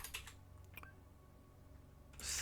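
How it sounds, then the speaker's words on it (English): A few soft keyboard keystrokes tap close by in quiet, with a brief burst of clicks at the start and a louder rush at the end. "I'm going to type this down"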